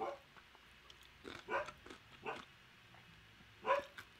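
Dogs, two huskies and a Jindo, bark and yip in a few short bursts at a distance, faint over a quiet indoor room with no talk.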